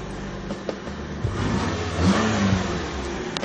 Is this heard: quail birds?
no